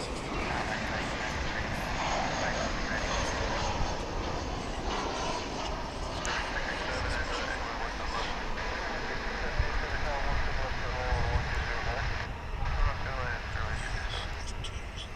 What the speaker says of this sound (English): Here comes the Grand Rapids plane.